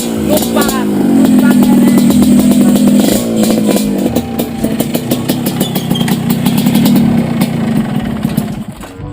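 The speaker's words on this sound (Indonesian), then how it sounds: "Loba motor kieu." Motorbike engines drone loudly and close, with rising and falling revs as vehicles pass, and a voice speaks over the noise at times.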